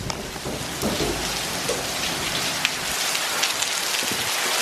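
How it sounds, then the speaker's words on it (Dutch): Heavy tropical rain pours down in a dense, continuous roar of drops striking surfaces, loud and close throughout with no voices. "het regent keihard"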